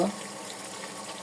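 Water is poured into a pot of chicken curry with golden potatoes, a brief soft splash and trickle that settles into a faint, steady liquid sound.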